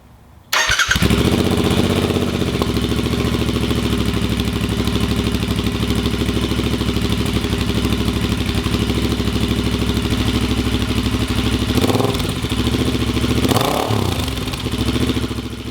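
A Royal Enfield motorcycle engine with a $90 aftermarket muffler starts and idles with a deep, throaty rumble, loud and close, with a couple of brief revs near the end.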